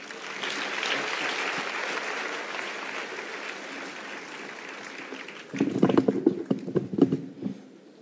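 An audience at a church service breaks into applause, a crowd clapping that holds through the first part and then swells into louder, closer bursts near the end.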